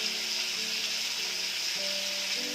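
Paneer curry cooking in a pan gives a steady, moderately quiet sizzle and hiss with no pauses, joined by faint tonal hums in the background.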